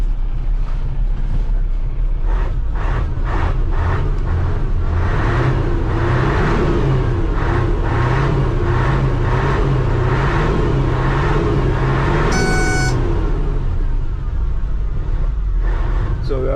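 A 1984 Nissan tractor truck's diesel engine idles loudly and steadily with a low, rumbling throb, someone talking over it throughout and a brief hiss of air partway through.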